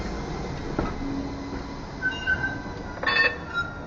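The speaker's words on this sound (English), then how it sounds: "This tram is changing tracks or something." Rumbling tram on a Belgrade street as it crosses a track switch, low steady rolling noise with brief metallic squeals and clanks toward the end, no voices.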